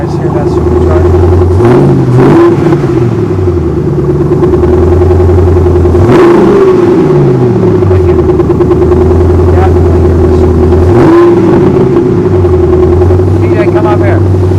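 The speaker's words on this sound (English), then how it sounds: "You guys hear that supercharger?" A Roush supercharged car engine revs up three times in loud, near surges over a steady idle, with people talking nearby.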